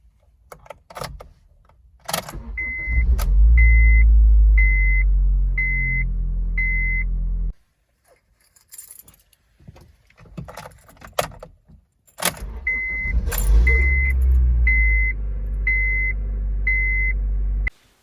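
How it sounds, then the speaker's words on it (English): An 8th-generation Honda Civic with a starter failing to engage the engine gear: two bursts of whirring grind each with a repeating dashboard beep, separated by a quiet pause with clicks and key jingles. "listen for that sound that you're going to hear from the starter not engaging with the gear on the motor"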